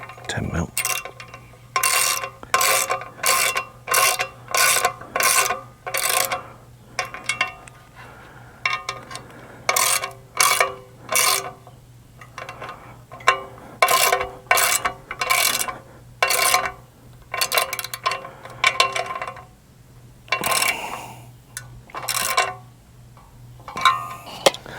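A ratcheting wrench tightens bolts with lock washers on a tractor, loud close clicking bursts repeated in short runs with pauses between, over a faint steady hum.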